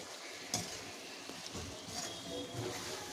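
Paneer, cauliflower, capsicum, tomato, potato and carrot cook in a pan for paneer pulao, with a steady close sizzle and occasional spoon scrapes and clinks against the pan, and no talking.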